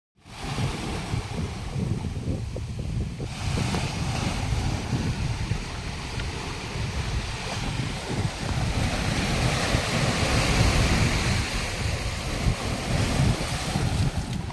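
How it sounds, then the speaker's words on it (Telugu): Ocean waves rolling onto a beach, a continuous rushing wash mixed with heavy wind buffeting the microphone, loud and unbroken. "అలలు సౌండ్ కూడా చాలా పీస్ఫుల్గా అనిపిస్తుంది"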